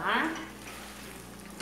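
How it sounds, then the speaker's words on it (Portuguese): A spoon stirs chicken stroganoff with cream in a pan, a faint soft scraping and wet swirling at close range, with a light clink at the start. "Misturar."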